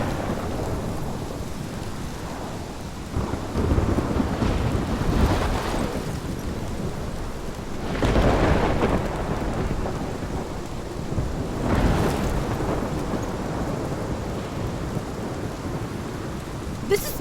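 Heavy rain pours steadily in the video game Life Is Strange, with rolling thunder swelling in several loud rumbles over the constant downpour.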